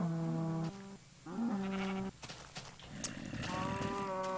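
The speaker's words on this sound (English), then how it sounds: "Ah, pink sheep." Minecraft sheep bleating, several short, tonal baa calls in quick succession, loud and close, with a few soft clicks and rustles between them.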